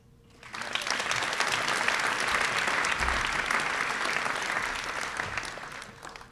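At a high school senior class night, the audience breaks into applause that rises quickly, holds as a broad, sustained roar of clapping, then slowly tapers off.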